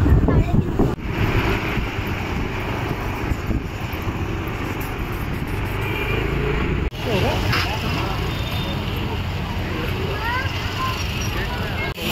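A motorbike carrying riders along a city road during Ganesh Chaturthi, with a steady, loud engine drone and heavy wind buffeting the microphone that runs unbroken for the whole stretch.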